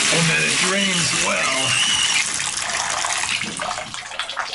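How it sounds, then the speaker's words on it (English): Hot water gushing from a bathtub tap in an apartment bathroom under strong pressure, a loud broadband rush with someone talking over it at first before the voice drops away. "I'm just going to show you the water pressure by turning on the hot water"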